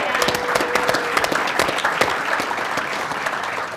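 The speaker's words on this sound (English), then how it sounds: "Can we have a round of applause for Yeah. that?" An audience at a baking industry panel session gives a round of applause, with many distinct claps in a lively, even patter at moderate volume, sustained for several seconds.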